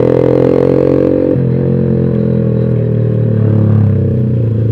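Loud, close engine drone of a non-standard modified motorcycle riding along a road in Bogor, a steady rumbling note that shifts slightly with the throttle throughout.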